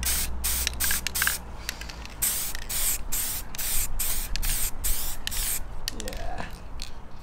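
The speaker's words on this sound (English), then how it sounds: "Ready for clear coat of ink." Clear coat is spray painted onto a bumper grill as a loud, close aerosol hiss that runs almost without a break, cut by a few short pauses between passes.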